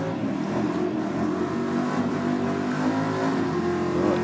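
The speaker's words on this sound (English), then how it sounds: "the little Audi out there just lapping all day" A car accelerates hard at a drag strip race meeting, its engine roaring loudly and revving up in a sustained, rising blast that carries through the whole stretch with no talk over it.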